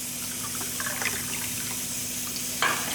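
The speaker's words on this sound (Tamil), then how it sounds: "பாருங்கள், 5 டம்ளர் தண்ணி ஊற்றிருக்கேன்" Water is poured into a pot of raw rice for sweet pongal, a soft continuous splashing and trickling that is close and fairly quiet, ending in a brief louder splash.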